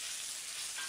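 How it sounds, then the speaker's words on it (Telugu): Gongura and coconut chutney sizzling in hot oil during tempering, a soft, steady frying hiss that lasts under a second. "నూనెలో బాగా వేగాలి."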